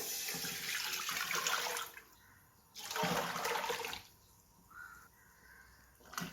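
Two and a half cups of water poured into a cooking pan while making Arabian mandi, two loud splashing gushes of a few seconds each separated by a pause, followed by quieter trickling and settling water, with no talk.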